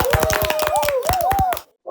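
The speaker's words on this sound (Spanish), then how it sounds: "vamos a recibirla con un fuerte aplauso" A small audience welcomes a guest with quick, rhythmic clapping, sharp separate claps close by over a sustained melodic tone, stopping abruptly near the end.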